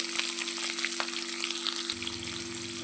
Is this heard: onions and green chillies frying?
yes